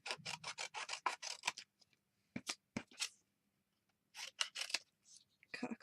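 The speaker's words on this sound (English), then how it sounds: "cut a couple of bits of cardstock out" Scissors snip through cardstock for penguin tags in a rapid run of close, crisp cuts, then a few isolated snips after a pause and a second quick burst near the end, with no talking.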